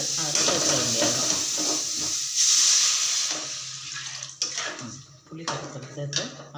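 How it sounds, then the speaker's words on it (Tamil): Tamarind solution poured into a pan of sautéed tomatoes for a Tamil puli kuzhambu, with a hissing sizzle and splashing, then clinks and clatters of a utensil against the pan, close and loud. "இப்போ நம்ம புளி கரைசலை எடுத்து அதில் சேர்க்க வேண்டியதுதான்."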